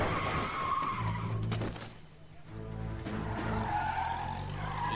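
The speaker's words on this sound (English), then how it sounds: "That's exactly what you should do when you run someone over." In the L.A. Noire video game, a car's tires screech in a long skid over a revving engine as it runs someone over. The sound is loud and close, dips briefly, then the engine noise returns.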